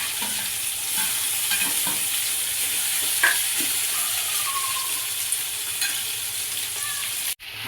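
Masala is stirred into ridge gourd curry in a pan, with a steady close sizzle of frying and soft scraping stir strokes throughout.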